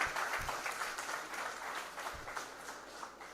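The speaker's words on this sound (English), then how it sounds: "Give a big round of applause for your achievement." Applause from a graduation convocation audience, a soft, fairly distant patter of clapping that holds steady for a few seconds with a couple of low thumps.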